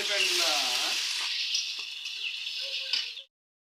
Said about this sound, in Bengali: মশলাটাকে কিন্তু ভালোভাবে কষিয়ে নিতে হবে